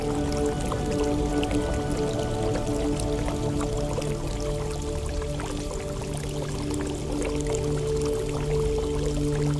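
Dense, steady rush of water pouring down Grojogan Sewu waterfall, loud and unbroken from start to finish with no voices.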